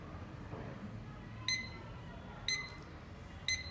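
A Tuelip white digital alarm clock beeps in short bursts, three evenly spaced chirps about a second apart over a quiet background hiss.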